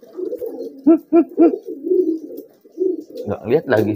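A homing pigeon coos close by in three quick rounded pulses followed by softer low murmurs, with someone talking briefly toward the end.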